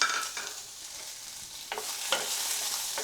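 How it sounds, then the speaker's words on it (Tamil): Drumstick pieces and green chillies are sautéed in hot oil in a pan for Madras sambar. A spoon stirs and scrapes in close bursts over a steady crackling sizzle. "இந்த காய் வந்து எண்ணெயில் வதக்கி பண்ணிங்கன்னா சாம்பாரோட டேஸ்ட்டும் ரொம்ப நல்லாயிருக்கும்"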